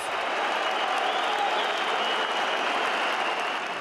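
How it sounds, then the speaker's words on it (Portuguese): A football crowd at a club gathering just before elections, with booing mixed into applause for club president Paulo Nobre, heard as a continuous, even wash of crowd noise, distant and sustained throughout. "vaias misturadas aos aplausos"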